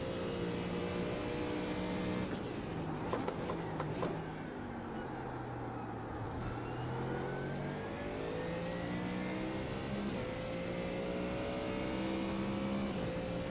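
A Mustang GT3 race car in iRacing at the Red Bull Ring revs and shifts repeatedly, its engine pitch sweeping up and down through gears, loud and close throughout.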